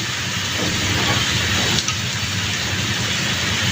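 Bitter gourd and potato frying in a pan give off a steady, dense sizzling hiss that runs without a break, with one soft clink partway through.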